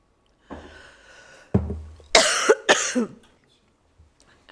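A person at an outdoor public inquiry site coughs and clears their throat in a short burst of harsh, close coughs, a few closely spaced, followed by quiet breaths.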